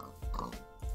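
Pigs in Minecraft oink in a few short grunting snorts, close and clear, with brief gaps between them.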